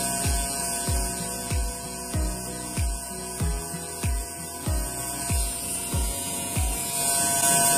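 A permanent-makeup tattoo machine drawing eyebrow hair strokes on skin gives a steady close electric buzz, broken by soft regular pulses about every half second as each stroke is laid down, with no talking.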